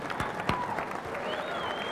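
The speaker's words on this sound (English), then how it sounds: "let's have a round of applause for NBA Fast Break" A crowd at a 1997 pinball distributor show applauds the unveiling of the NBA Fast Break pinball machine, brief clapping with a few sharp claps standing out and other sounds mixed in behind.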